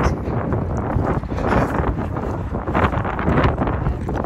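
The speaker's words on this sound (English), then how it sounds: "Oh my God, it's windy." Heavy wind gusts batter the microphone, producing a loud, constant rumbling roar that swells slightly in places.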